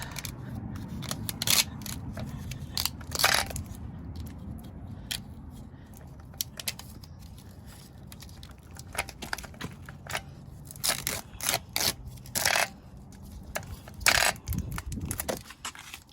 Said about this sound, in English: Let me take this tape off real fast.